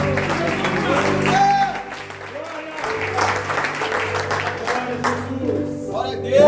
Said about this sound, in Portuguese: Dê uma linda salva de palmas a Ele.